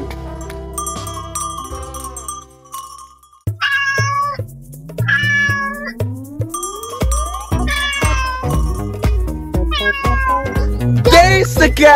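A cat meows again and again, loud and close, in drawn-out rising and falling calls that sometimes turn into caterwauls. Light jingling and other indoor sounds fill the gaps, and some calls overlap.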